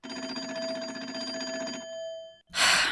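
Coin telephone on a porch ringing in the Nancy Drew game Secret of the Old Clock, a sustained metallic bell trill that cuts off, followed by a brief burst of noise.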